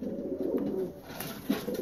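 Domestic pigeons cooing close by in a loft, low throaty rolling coos repeating in soft pulses over a steady background hum.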